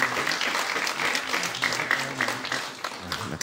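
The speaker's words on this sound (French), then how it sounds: "On peut l'applaudir." An audience at an evening YouTube creators' event gives a short round of applause, steady clapping under faint voices.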